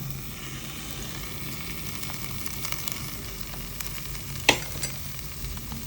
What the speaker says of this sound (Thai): แล้วก็ผัดแล้วเอาน้ำซอสที่ ที่ปรุงไว้นี่ค่ะเดี๋ยวราดลงไปนะคะ